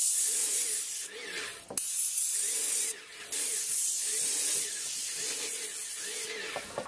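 Paint sprayer spraying a house exterior, a loud steady airless hiss broken by several short pauses as the trigger is released and pulled again.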